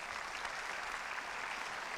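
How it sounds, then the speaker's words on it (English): Applause from a tennis match audience, a soft, even wash of clapping heard from a distance, quiet and unbroken. "That deserves a round of applause as well."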